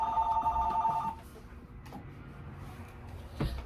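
A home landline telephone rings with a bright electronic trill for about a second, then quieter room sounds and a short knock follow.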